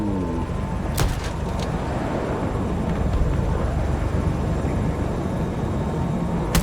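A fighter jet roars through a Battlefield 2042 battle, a steady loud engine rumble filling the scene, with a sharp burst or two of gunfire near the start.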